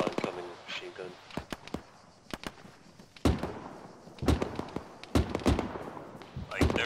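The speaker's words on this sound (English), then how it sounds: "They're firing really far away." Machine gun fire crackles from far away in a military video game, irregular bursts of sharp bangs with voices talking in between.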